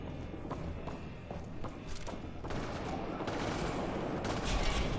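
Sustained gunfire from Mass Effect Andromeda rattles in rapid, overlapping bursts over a dense, noisy combat backdrop, growing heavier and louder toward the end.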